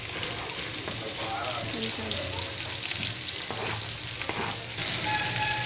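Chopped onions frying in hot oil in a pan with green chilies and curry leaves, a steady close sizzle and crackle running throughout with faint clinks of stirring.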